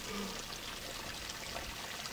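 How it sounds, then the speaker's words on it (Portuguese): Clean water runs steadily from a spring spout outdoors, a continuous soft trickling pour heard close and alone. "Aqui é uma bica d'água. A água vem limpinha."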